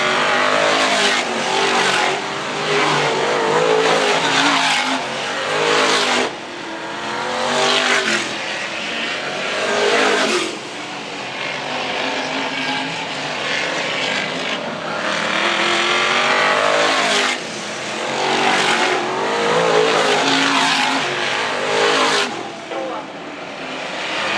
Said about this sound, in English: Barry Amos, the man from Gloucestershire, going to take the checkered flag in the 633 car.